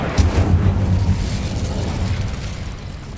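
A fiery Incendio spell erupts in the game Hogwarts Legacy: a sharp burst, then a roaring whoosh of flame over a deep rumble that slowly fades across a few seconds.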